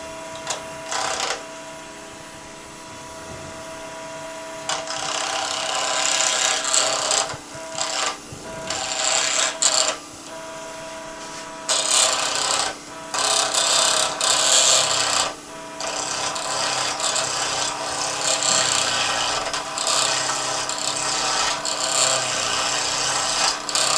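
A wood lathe spins a crochet hook blank while a tool cuts and rubs against it, a steady motor hum under bursts of raspy scraping that start and stop repeatedly.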